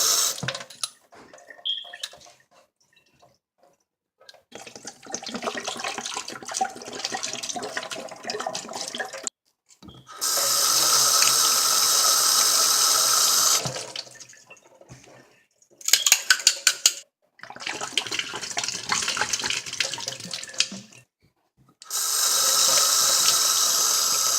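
Running tap water splashes over a water bottle top as it is rinsed by hand at a sink, in several separate bursts of steady flow with brief pauses between them, close and fairly loud.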